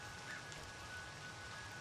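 Soft steady rain hisses in the background of the video game Crow Country, faint and even, with a thin tonal whine running underneath.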